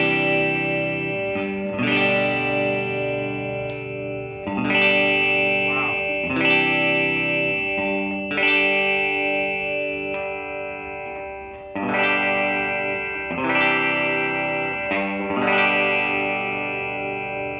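Electric guitar played through a 1959 Gibson GA88 stereo amp with tremolo on, ringing sustained chords with a shimmering pulse, struck anew every two seconds or so, loud and close with no talking.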